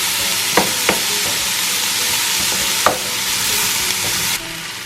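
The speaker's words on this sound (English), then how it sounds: "we're going to stir it constantly so the garlic doesn't burn" Garlic and vegetables fry in a pan under a constant close, hissing sizzle, with a few sharp clacks of the stirring utensil against the pan before the sizzle drops slightly near the end.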